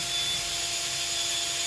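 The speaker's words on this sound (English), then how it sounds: "let's drill our through hole with the 3/16 here" A power drill with a 3/16 bit bores a through hole in the stock of a Hatsan Flashpup air rifle while a sling swivel is fitted, a steady, close whirring whine with no break.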